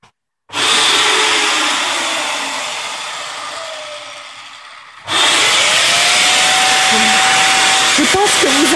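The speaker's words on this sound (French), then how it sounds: "Je vais mettre l'aspirateur en route." A Dyson DC37c Total Allergy vacuum cleaner switches on with a loud, steady whooshing roar, cuts off briefly, then restarts and runs on close by.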